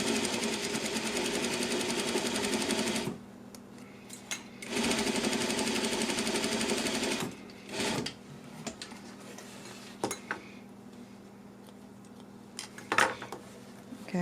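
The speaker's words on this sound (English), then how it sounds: "you're just going to stitch with your regular stitch length" A sewing machine topstitches a slant pocket on pants with black thread: a long whirring run of rapid stitching, a pause, a second long run, then several short stop-start bursts with small mechanical clicks.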